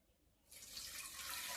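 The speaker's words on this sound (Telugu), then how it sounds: "ఇప్పుడు ఇందులో అయితే నేను వాటర్ పోస్తున్నానండి" Water pours into crushed tomato rasam in a pot, a steady splashing rush that starts abruptly after a brief quiet moment and continues loudly without talking.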